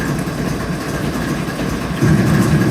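A diesel locomotive in Train Simulator 2022 idles on the Marias Pass route with a steady low rumble that swells a little louder toward the end, with no voices.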